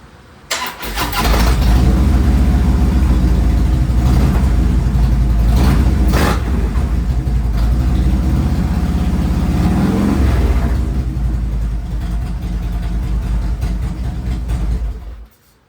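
A 2014 Harley-Davidson Road King motorcycle engine cranks and fires up, then rumbles loudly up close with a few throttle blips rising and falling before it idles and shuts off.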